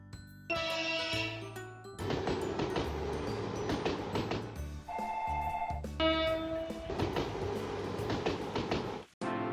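A Plarail toy train modelled on the Series 381 Yakumo limited express runs on its track, giving a buzzing motor whir and clattering rattles mixed with ringing tonal sounds, fairly close and continuous until a sudden stop.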